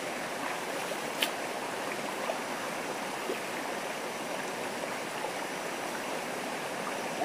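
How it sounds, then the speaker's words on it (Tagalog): A river flows in a continuous, even rush of water through mountain country, steady and fairly close, with a faint brief tick near the start and no voices. "maligo na tayo dito sa ilog na to"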